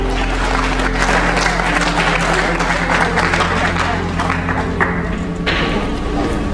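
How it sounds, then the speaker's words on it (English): A church congregation applauds for Mama, a dense, loud, steady clapping over a background hum and murmur, running throughout. "Clap for Mama."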